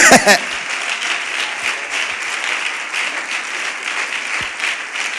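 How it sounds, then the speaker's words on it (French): Applause from a church or conference audience welcoming a preacher to the stage, a broad steady clapping wash after a brief voice at the very start, holding at an even, fairly loud level. "Avec des applaudissements, nous recevons l'homme de Dieu."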